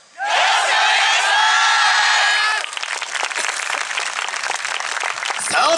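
An outdoor audience at a YOSAKOI dance festival stage claps and cheers loudly. A loud shout opens the clip, then gives way to dense, steady applause that swells again at the end.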